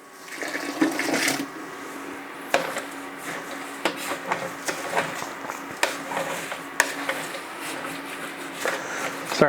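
Water poured into a coffee porter mash while brewing, a steady splashing pour with irregular sloshes and clatters, fairly close, running throughout.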